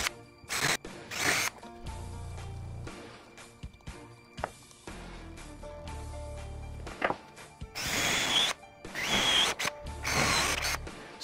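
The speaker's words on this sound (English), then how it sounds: "I'm going to go ahead and do three shallow countersinks and then three deeper countersinks" A countersink drill bit bores shallow and then deeper countersinks into wood, giving several separate short bursts of high-pitched cutting and whirring, each followed by quieter pauses and small clicks, heard close with no talk.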